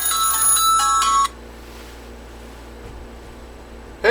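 An incoming call rings on a phone as a loud, bright electronic ringtone, then cuts off abruptly into quiet room hiss, with a brief chirp at the very end.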